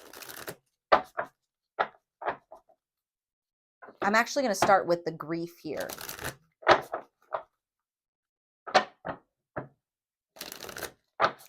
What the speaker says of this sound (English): Let me shuffle this one more time, actually.